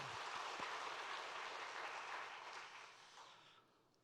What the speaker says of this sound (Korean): 한 번 더 격려의 박수 한번 하겠습니다.